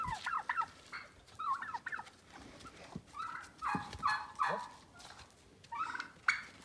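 Turkeys gobble repeatedly in rapid bursts, several birds calling close by, with a brief spoken word in between.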